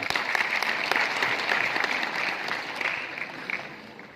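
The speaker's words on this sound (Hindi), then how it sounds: "तो सर के लिए, उनके नेता के लिए एक बार जोरदार तालियां" A crowd applauding Haryana's deputy chief minister at an honouring event, steady loud clapping from many hands that gradually thins and fades toward the end.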